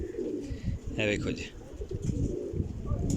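Flying pigeons coo in short bursts beneath a voice, with one brief, louder call rising above the low, murmuring background.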